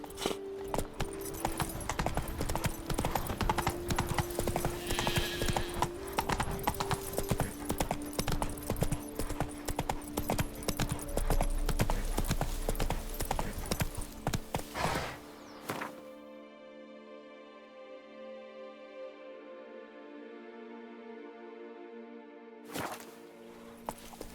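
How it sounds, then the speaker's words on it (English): A horse in The Witcher 3: Blood & Wine clip-clops at a steady walking rhythm for about fifteen seconds, loud and close with faint jingling, then the hooves stop and sustained game music tones take over. "Whoa there, Roach"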